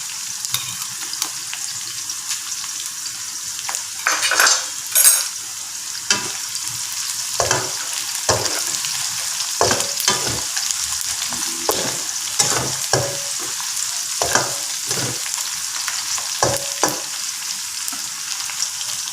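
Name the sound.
onions being stirred and fried in a pan for mutton perattal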